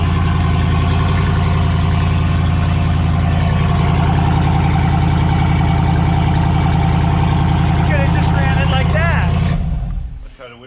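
A loud, rough Ram Power Wagon 6.4L HEMI truck engine with no muffler rumbles steadily with a deep, unmuffled exhaust drone for several seconds, then cuts off abruptly.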